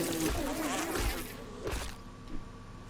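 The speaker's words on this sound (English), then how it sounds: "The zombie bees." Zombie bees in the video game 7 Days To Die on PS5 give a steady, fairly loud insect buzz that hums continuously and fades slightly toward the end.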